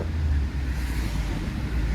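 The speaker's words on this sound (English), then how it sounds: "All right, the car is moving." Subaru WRX rolling along a foggy road at night with failing brakes, a steady low engine and road rumble mixed with wind noise inside the cabin, constant and unbroken.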